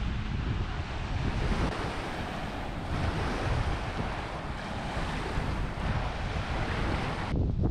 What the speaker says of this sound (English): It's more of a rocky beach on the lake.